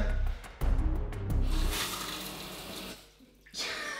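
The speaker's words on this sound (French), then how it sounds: "J'ai ouvert le mauvais robinet." A shower tap is turned on for a cold shower, and water rushes loud and close. It pauses briefly near the end and then gushes again.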